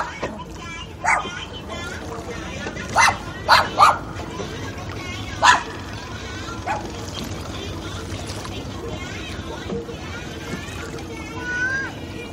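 A guard dog on a canoe tour along the Mekong River lets out a few sharp barks and yips mixed with whimpers, close by, while people talk throughout over steady outdoor background noise.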